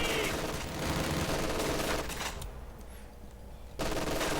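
An MG42 machine gun fires in the World War II strategy game Company of Heroes 2. Dense sustained bursts of automatic fire sit in loud battle noise, then drop away briefly before the din returns.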